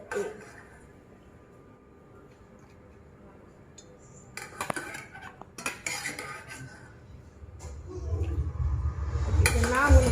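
Boiled milk being mixed with egg for Tudor egg custard, with faint clinks of a utensil against a bowl and scraping stirring sounds that grow louder near the end, in a quiet kitchen.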